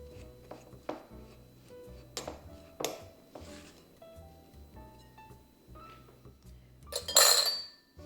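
Beignet dough being mixed by hand in a bowl, heard as scattered close clinks and knocks of utensil against bowl with quiet gaps between, ending in a louder brief clatter.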